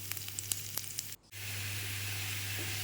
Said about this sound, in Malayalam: നല്ലൊരു അല്പം ഒരു ബ്രൗൺ കളറായിട്ട് ഞാനിത് നെയ്യിൽ ഈ തേങ്ങാക്കൊത്തൊന്ന് വറുത്തിട്ടുണ്ട്